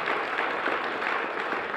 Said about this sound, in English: if we could just give Councilman Barnes a round of applause